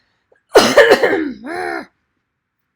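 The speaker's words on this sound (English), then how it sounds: "I start and I'm coughing now" A short burst of close, harsh coughing, a few quick hacks followed by a brief throat-clearing rasp, then silence.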